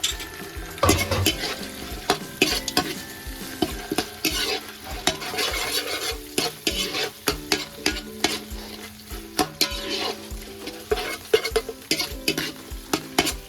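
Chicken dum biryani ingredients are stirred and mixed in a pot, with repeated scraping and clanking spoon strokes in an uneven rhythm over a light sizzle, close up and without talking.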